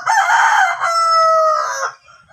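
A rooster, a game fowl about eight or nine years old in its neck-feather molt, gives one loud, close crow lasting about two seconds, then falls quiet.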